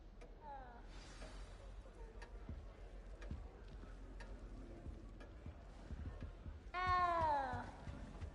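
A cat in the Hogwarts Legacy game meows twice, a brief mew near the start and a louder drawn-out meow near the end, over faint ambient game sound and light ticking.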